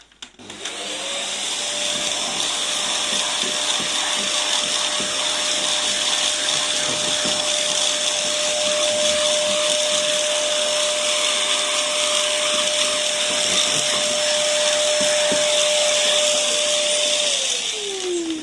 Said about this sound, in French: je reprends mon aspirateur et je remets le petit coup qui va bien